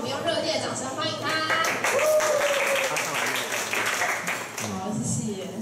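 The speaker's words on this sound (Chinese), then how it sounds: "然后我们用热烈的掌声欢迎他" Audience applause welcoming a guest speaker at a talk event, a steady wash of clapping filling the room for several seconds, with a voice speaking over it partway through.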